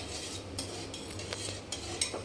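Spoon scraping and clinking against a pot while kheer is stirred, a few soft, irregular metallic taps and scrapes close by over a low steady hum, with no talking.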